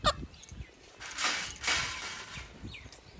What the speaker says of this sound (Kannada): ಅರಸೀಕೆರೆ ಕೋಳಿ ಸರಿಯಾಗೈತೆ ಕಚ್ಚಕ್ಕೆ.